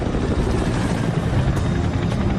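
A Chinook helicopter, its controls jammed, rising slowly as it climbs, giving a steady, dense rotor roar that fills the whole clip without a break.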